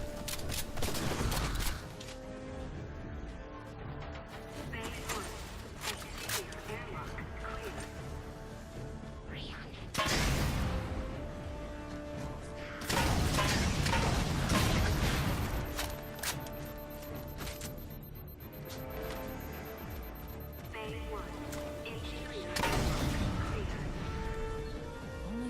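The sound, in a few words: gunshots at enemies in video game Halo 4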